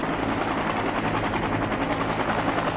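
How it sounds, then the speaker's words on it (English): Helicopters evacuating people at the end of the Vietnam War, a steady loud rotor chop pulsing rapidly and evenly throughout, with no voices over it. "Hour after hour, helicopters continued picking up loads of evacuees."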